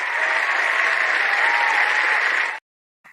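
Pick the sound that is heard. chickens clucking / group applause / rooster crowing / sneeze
group applause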